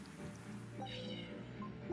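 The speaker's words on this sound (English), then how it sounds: "Oh look, it's a cat." A cat in the video game Tales of Berseria gives a couple of short, clear meows over steady game music, close and moderately loud.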